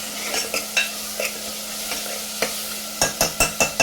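Onions sautéing with a spoon of salt in a pan for keema curry, gentle sizzle with spaced stirring scrapes that quicken into a run of sharp clacks near the end, no talk.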